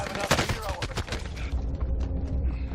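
Rapid bursts of video game gunfire crackle through a chaotic shootout, dense overlapping shots in the first half easing into scattered pops, with players talking over it.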